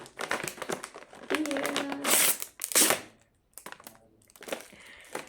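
A plastic pack of black raisins crinkles and crackles in close, irregular bursts with short pauses, a few sharper rustles in the middle and softer handling at the end.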